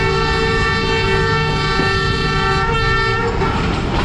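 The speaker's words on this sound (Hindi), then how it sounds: "फ़िलहाल ट्रेन सियालकोट की गलियों के दरमियान से गुजर रही है।" Sialkot Express train rolling through narrow streets between closely packed houses, a loud steady rumble of wagons with a sustained horn tone running throughout, close by and continuous.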